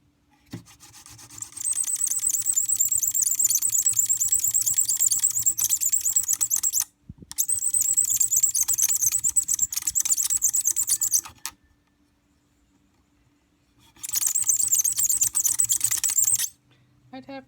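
A friction fire drill spindle spins on craft store particle board, giving a loud, close, continuous grinding rasp in three long bursts separated by short pauses and a longer silence.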